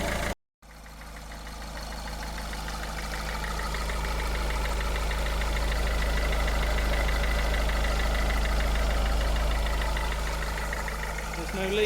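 A Ford C-MAX engine starts for the first time after a turbo replacement, a brief cut near the start before it settles into a steady, loud, close idle with a low rumble and light knocking texture throughout.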